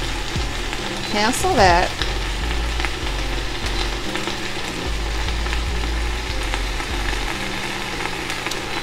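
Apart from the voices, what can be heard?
collard greens sauteing in an Instant Pot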